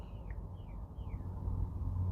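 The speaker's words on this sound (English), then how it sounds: "It's either a cardinal or a canary." Songbird, a cardinal or canary, gives three short descending whistled calls over a low, steady background rumble; faint and somewhat distant.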